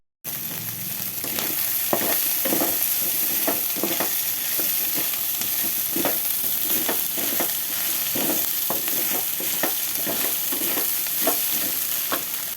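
Tamarind fries in hot oil in a pan for an ivy gourd roti chutney, giving a continuous close sizzle broken by regular scraping strokes of a spoon stirring it.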